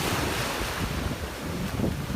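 Steady rush of ocean surf on a beach with wind buffeting the microphone, a continuous broad roar with no voices.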